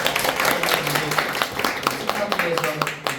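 An audience applauding after a lecture, dense scattered clapping from a small crowd, fairly close and continuous, with a voice speaking over it.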